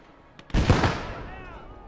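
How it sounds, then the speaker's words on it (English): A BT-5 tank fires a single heavy cannon shot in the Gates of Hell: Ostfront game, a sudden loud blast followed by a long rumbling, fading echo. "this BT-5 is firing at us"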